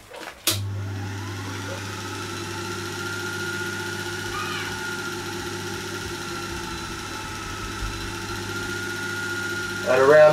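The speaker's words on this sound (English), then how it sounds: "doing some initial tests on the Agni motor." A small Agni electric motor runs steadily on a bench test at low speed, giving a continuous hum with a faint whine that holds level throughout, with a brief click at the start and a slight rise near the end.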